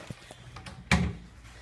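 Hotel room drawers being opened: a few soft knocks and slides, then one sharp close wooden thud and a short rattle as a drawer pulls out, nearby in a quiet room.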